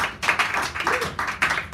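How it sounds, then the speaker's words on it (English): A round of applause at a poetry hour in Sacred Grounds Cafe, San Francisco: a small audience clapping in uneven bursts, close and fairly loud, with a brief voice underneath. "Give him a round of applause, backed up by David."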